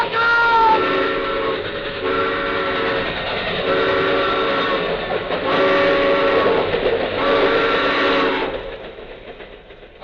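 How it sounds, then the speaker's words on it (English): A train passes over railroad tracks in an old horror film, its whistle blaring in long, loud, sustained blasts over a steady rumbling roll, close and dominant throughout. "The train! Look out!"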